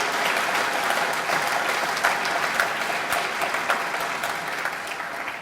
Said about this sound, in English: can you give a warm applause for this?